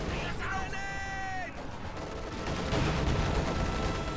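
An artillery barrage with gunfire from the World War II strategy game Company of Heroes 2, a steady rumble of distant impacts and shots that swells toward the end, under a talking voice and a brief tonal in-game sound early on.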